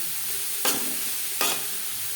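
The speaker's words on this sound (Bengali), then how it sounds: "গরম মশলার সাথে গাজর বেশ ভালো করে মিক্স করে দেব" A spatula scrapes twice through carrots and garam masala in a frying pan while making carrot laddu, two short distinct strokes over a steady low sizzle.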